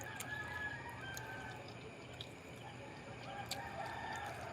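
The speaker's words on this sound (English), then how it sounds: "I love to kill that rooster." A rooster crows faintly in the distance against a steady hiss of outdoor background noise, with faint clucking fowl nearby and no talking.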